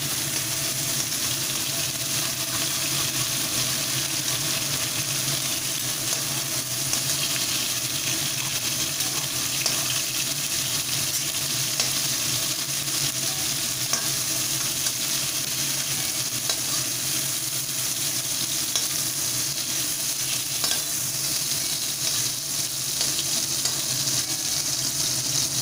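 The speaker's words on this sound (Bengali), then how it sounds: "ভালোভাবে ফ্রাই হয়ে গেছে, এবার আমি তেলগুলোকে ছেঁকে আমি ফুলকপিগুলোকে তুলে নিচ্ছি" Cauliflower fries in hot oil, a continuous dense sizzle and crackle that stays close and loud throughout, with faint stirring and occasional clinks and no voices.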